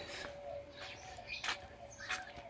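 Sparrows chirp in short, faint bursts around a hotel, with scattered high tweets over a soft background hum.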